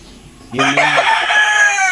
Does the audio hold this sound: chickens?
yes